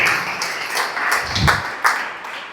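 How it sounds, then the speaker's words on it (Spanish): A church congregation claps in a short burst, scattered hand claps at moderate volume with some louder individual claps standing out. "¿Cuántos le dan un aplauso al Señor?"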